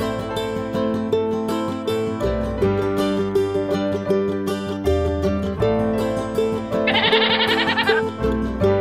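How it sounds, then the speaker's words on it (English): A goat bleats in a short wavering burst over a bouncy children's song with steady music throughout. "Goat."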